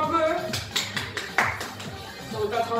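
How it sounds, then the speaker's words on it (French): A gym class in a fitness session gives itself brief scattered applause, a handful of uneven claps mixed with shuffling, while a voice speaks over and around them. "Applaudissez-vous un peu."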